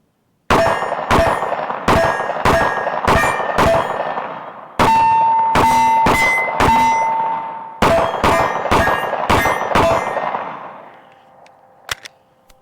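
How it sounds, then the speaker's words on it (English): A SIG P320 9mm pistol fires a full magazine at AR500 steel targets outdoors. About fourteen sharp, ringing metallic clangs come in quick, steady groups, each hit leaving a bright tone that decays, with a final faint ping as it ends. "we've got our SIG P320 is the first gun we're going to be using in 9mm. So let's run a magazine through it"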